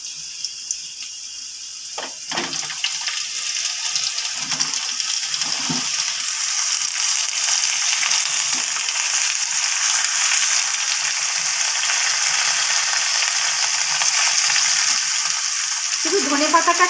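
Potatoes and vegetables frying in a pan for a cauliflower stalk chorchori, a steady bright sizzle that swells after a couple of brief clatters and holds loud and continuous throughout.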